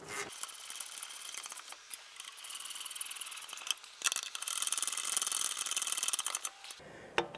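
A socket ratchet snugs and torques the rear hub assembly bolts to 74 foot-pounds in a crisscross pattern on a 2014-2019 Toyota Corolla during a wheel bearing replacement. Close, continuous rapid ratcheting clicks with brief pauses between bolts, no talking.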